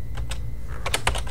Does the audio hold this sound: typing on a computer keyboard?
yes